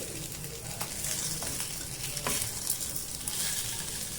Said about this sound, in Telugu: అలా అటు ఇటు తిప్పి మీరు వేయించుకుంటామనండి